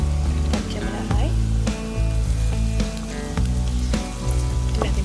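Curry leaves and green chillies fry with onions in a hot pan, giving a steady sizzle broken by repeated scraping and stirring clatters.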